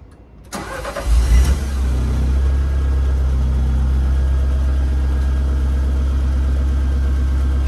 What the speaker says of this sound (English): we start the engine until it runs out of its own accord.